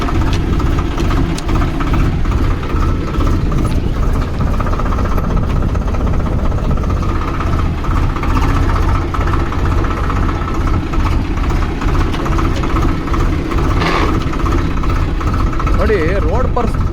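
A Swraj 733 FE tractor's diesel engine idles close by, a loud, steady low rumble that holds unbroken throughout while someone talks over it.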